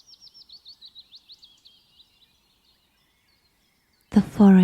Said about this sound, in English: The forest is alive with the harmony of bird songs, whose melodies create a backdrop to your hike.